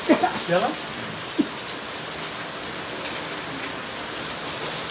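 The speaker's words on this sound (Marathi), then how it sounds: "हे बघा किती पाऊस चालू आहे. धनाधन पाऊस चालू आहे." A continuous dense hiss of heavy rain, with a few short bits of a voice near the start.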